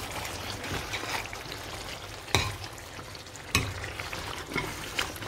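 A pork stew sauce (Bassa black stew, mbongo) simmers and reduces in a pot, giving a steady soft bubbling sizzle with a few brief clinks, close and alone.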